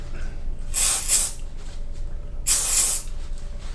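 Two short bursts from an aerosol can sprayed indoors into a pen spring mechanism, each a sharp, close hiss lasting under a second, separated by a brief pause.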